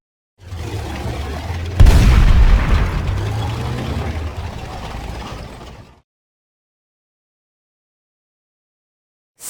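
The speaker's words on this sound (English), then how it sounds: "tank" A tank makes a grinding mechanical clatter of tracks and gears, opens with a heavy boom, rumbles loudly for several seconds, then stops abruptly into silence.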